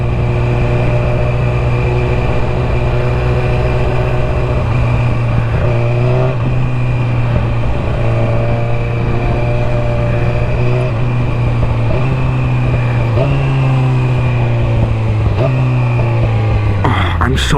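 Motorcycle engine running steadily and loud throughout, with its pitch stepping down several times as the rider downshifts, heard alongside wind noise.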